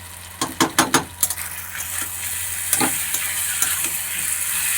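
Chicken coated in ginger garlic paste with three cardamom pods being sautéed for chicken pulao, opening with several sharp spoon clanks against the pan, then a continuous close sizzle.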